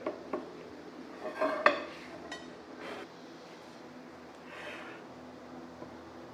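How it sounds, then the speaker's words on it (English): Bondo auto body filler is stirred and scraped on a hard surface, producing scattered faint clinks and taps with a few brief scraping strokes, close by and quiet with no talking. "I'll just mix this much for now."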